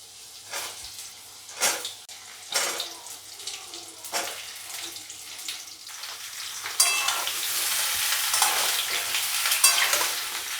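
Potatoes and pointed gourd are dropped into hot oil with black cumin and a chilli, giving a few sharp bursts of sizzle that build into steady, loud frying, with stirring and clatter close by.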